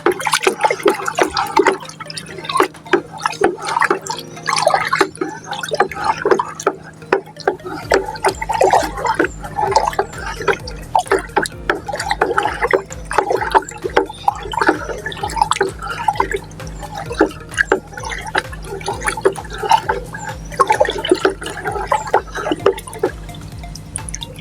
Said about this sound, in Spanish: procedemos a revolver